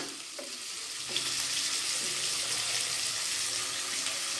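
Chicken frying in a pan for adobong sitaw, a soft steady sizzle with some scraping as it is stirred, fairly quiet and continuous, no talking.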